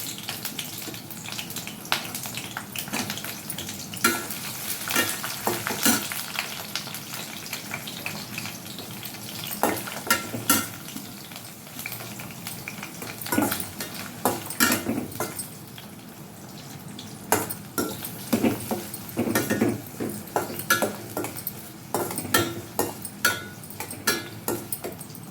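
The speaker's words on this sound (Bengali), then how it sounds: "ক্যাপসিকামটা খুব কম ভাজতে হয়, না ভাজলেও হয়, হালকা আমি তবুও একটু ভেজে নিই।" Capsicum stir-fries in a pan for fried rice, a continuous sizzle broken by irregular clanks and scrapes of a spatula against the metal, varying in loudness throughout with no talking.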